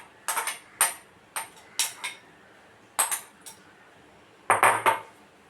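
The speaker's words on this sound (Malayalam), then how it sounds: "ബീൻസും ക്യാരറ്റും സവാളയും കൂടെ വഴറ്റി വെച്ചതാണ്. അതിലോട്ട് ഇട്ട് കൊടുക്കാം." Spoon or ladle clinking and scraping in a pan as sautéed beans, carrots and onions are tipped into fried rice, several sharp separate metallic taps in uneven bursts, close up with no talk.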